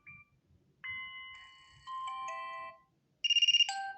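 Alarm ringtone on a Vivo Y51 phone, a series of bright electronic melodic tones followed by a rapid burst of chiming notes, played loud and close with no talk.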